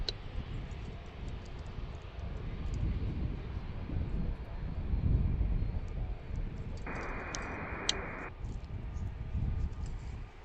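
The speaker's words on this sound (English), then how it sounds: "Delta headed out to take off." Delta A321 airliner taking off, a broad low jet engine roar building and holding at a distance, with steady wind-like rumble and a few faint ticks.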